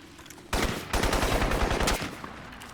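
Sustained automatic gunfire in the video game Crysis, a burst of rapid rounds lasting well over a second, loud and close with a dense, rattling texture and a short tail, no talking over it.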